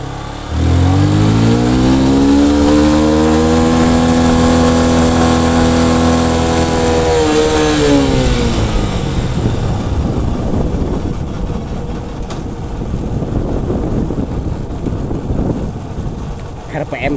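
A Yamaha Byson motorcycle engine with a fuel-thirsty, underpowered fault revs up loud and close, rising and holding high before dropping back to a rough idle with some background noise.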